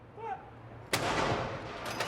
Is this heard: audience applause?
no